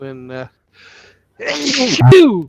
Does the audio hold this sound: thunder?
no